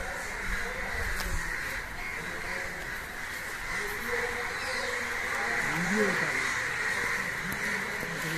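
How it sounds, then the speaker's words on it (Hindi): Crows cawing over an empty street in the Teen Darwaja area of Ahmedabad during a curfew, calls coming and going at a distance under a voice and faint passing traffic. "आज उसी जगह पर पूरे तीन दरवाजे इलाके में कौवे उड़ते नज़र आ रहे हैं"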